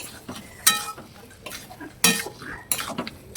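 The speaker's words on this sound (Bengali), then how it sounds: "এবার মশলাটাকে পুরো ভালো করে চিকেনটার সঙ্গে মাখিয়ে নেব।" Spices being worked into chicken in a pan, with repeated metal clinks and scraping strokes of a utensil against the pan at an irregular rhythm, fairly quiet and close, with no talk.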